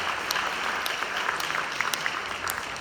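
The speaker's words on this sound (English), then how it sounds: "round of applause and thank you to members of Fentanyl Fathers" A school audience claps throughout, a steady, fairly close patter of many hands with a few sharper individual claps standing out.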